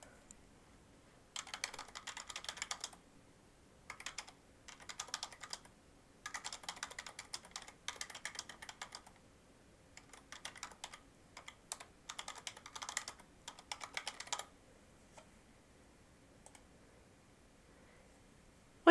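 Bursts of typing on a computer keyboard as comments are entered into a data entry form field, clustered runs of quick clicky keystrokes separated by short pauses, close and clear with no talk.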